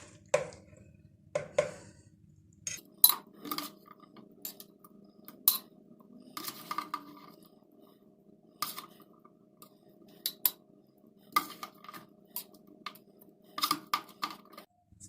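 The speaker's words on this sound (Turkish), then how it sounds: "Şimdi bunu güzelce bir kavanozumuza alıyoruz." Red cabbage salad spooned into a glass jar, with soft clinks of utensil against glass and light scraping in scattered, irregular taps at low volume, with no speech.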